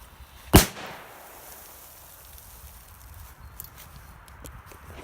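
A Mefisto Manna MA2 firecracker goes off in sand with a single sharp, loud bang near the start, followed by a brief decaying rumble and faint scattering noise.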